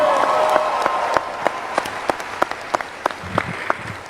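Graduation ceremony crowd at FAMU applauding steadily, dense clapping throughout with sharp individual claps standing out and a faint background cheer fading early.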